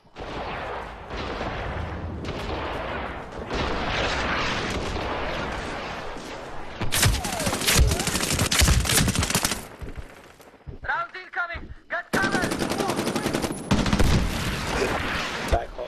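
Heavy gunfire from the video game Medal of Honor Warfighter, with sustained automatic bursts and sharp shots that grow denser and louder midway, break off briefly, then resume in a loud stretch of rapid firing.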